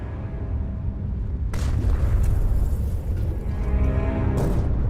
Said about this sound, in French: L'écho des obus s'écrasant dans l'eau résonne à travers la coque